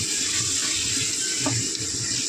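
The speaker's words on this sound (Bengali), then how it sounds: "অল্প একটু জলও আমি দিয়ে দিচ্ছি" Water poured into a pan of frying rupchanda fish masala with tomato, a steady watery rush with a faint sizzle, alone and continuous throughout.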